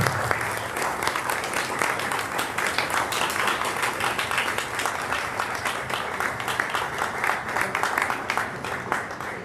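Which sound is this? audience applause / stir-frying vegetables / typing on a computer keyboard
audience applause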